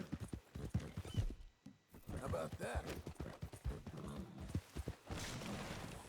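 Horse hooves clip-clop at a quick, rhythmic pace in Red Dead Redemption 2, quiet in the mix, with someone talking over the gait.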